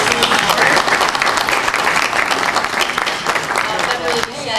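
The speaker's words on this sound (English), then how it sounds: "just a round of applause for his service on the board." Dense, sustained applause from a crowd at a chamber of commerce annual dinner, loud and continuous throughout, fading slightly at the end.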